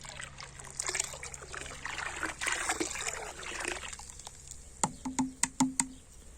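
Liquid worm fertilizer, one litre, poured into a 200-litre water barrel in an orchard: a steady trickling, splashing pour runs for several seconds, then a few sharp sloshing drips close by.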